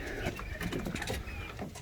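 Chickens in a coop fitted with an automatic door murmur and grumble softly at bedtime, a low close clucking and cooing chatter.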